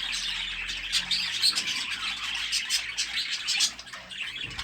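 Budgerigars chirp and squawk continuously, a busy flock of bright, overlapping calls, fairly close and steady throughout.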